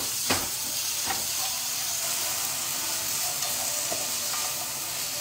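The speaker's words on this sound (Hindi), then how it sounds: "मैंने इसमें one cup of frozen piece डाले मिक्स कर देती हूँ" Frozen peas are stirred into a vegetable dish and sizzle loudly in the hot pan, a dense, steady frying hiss with occasional sharp clicks from the spoon and no talk.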